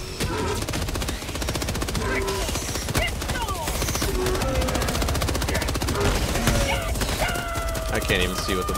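Rapid, dense automatic gunfire rattles almost nonstop in the shooter game Helldivers 2, loud and close, with scattered bursts and effects layered over it while players talk.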